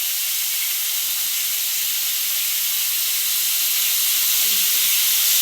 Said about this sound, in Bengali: ফুলকপিটা ভাজা হচ্ছে